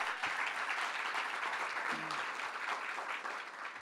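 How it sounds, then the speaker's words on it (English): Crowd at a political caucus event in a mansion gives a sustained round of applause, a thick, even clapping that holds steady for several seconds at moderate distance. "give him another round of applause"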